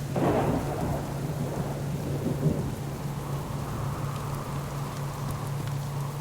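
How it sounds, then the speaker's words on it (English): Rain pours steadily in the survival video game Subsistence while a deep thunder rumble rolls in at the start and fades under the constant hiss of the downpour. "Maybe they're waiting for the rain to stop too."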